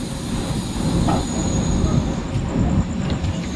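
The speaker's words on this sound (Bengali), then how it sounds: "আমাদের ট্রেন পুরী স্টেশনে ঢুকে গিয়েছে" The Digha to Puri Samudra Kanya Express rolls into Puri station with a loud, high metallic squeal of wheels on rails, rumbling steadily underneath as it slows.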